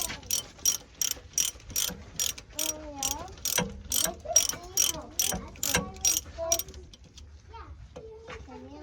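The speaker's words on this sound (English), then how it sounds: "So I got to take the 4 bolts that hold the wheel bearing on," A ratchet wrench clicks in rapid repeated bursts while loosening the four bolts holding a car's wheel bearing, close and loud, with someone speaking intermittently over and between the ratcheting.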